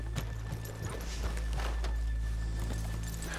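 Horses walk in Red Dead Redemption 2, hooves clopping in an uneven, unhurried rhythm over a constant low ambient hum, fairly close with no voices.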